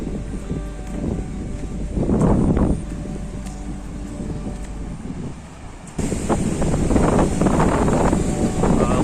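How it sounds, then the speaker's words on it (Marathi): Strong wind buffets the microphone on Harihareshwar beach in Shrivardhan, Raigad, with a roaring wash of sea waves underneath that swells louder in the second half. "त्याच्यामुळे आम्ही समुद्रावरती जात आहे हे पहा हा हरिहरेश्वर बीच आहे"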